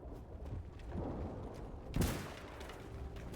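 Samurai gunners firing a matchlock volley in Mount & Blade 2 Bannerlord, with a sharp loud crack near the middle set against a scattered battle din and distant popping shots.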